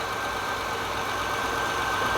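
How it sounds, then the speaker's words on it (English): A Honda Accord engine idling with a steady, even hum and no gaps, carrying a faint whine on top and no talking. The idle speed is stuck high. "So as you can hear, the engine is running."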